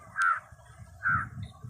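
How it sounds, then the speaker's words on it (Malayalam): Crows caw near Kireedom bridge in Punjakkari: two loud, harsh caws about a second apart over a low, steady outdoor rumble. "ഇവിടെ ഫുൾ കാക്കയാണ്"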